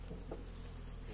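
Honeybees hum steadily inside a hive where foreign bees have invaded and the colony is fighting, a low continuous drone held at an even, close level throughout.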